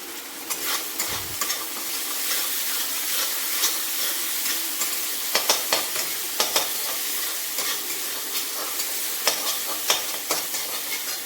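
Ginger and green chili paste frying in a pan for a cauliflower singara filling, a steady sizzle with scattered clicks and stirring scrapes throughout, fairly close and with no talking.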